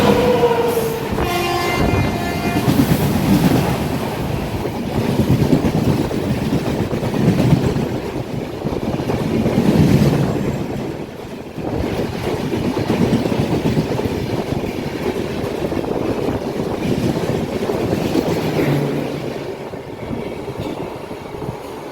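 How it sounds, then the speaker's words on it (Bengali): The Tamralipta Express rumbles past close by on a crossing track, heading from Digha toward Kolkata, with a steady heavy roar of wheels on track and a brief horn-like tone near the start. "তাম্রলিপ্ত এক্সপ্রেস দীঘা থেকে কলকাতার দিকে এগিয়ে যাচ্ছে এবং আমাদের ট্রেনকে ক্রস করছে।"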